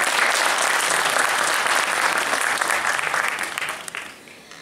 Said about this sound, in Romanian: Am să vă rog să-i aplaudați și pe ei.